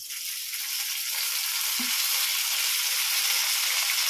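Steady hissing sizzle of curry leaves frying in hot oil, loud and continuous, with a brief crackle burst near the start and no talking.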